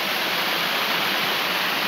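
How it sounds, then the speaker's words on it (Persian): Waterfall in a valley of snowmelt water: a loud, dense, unbroken roar of falling water close by, alone without voices. "آبشار"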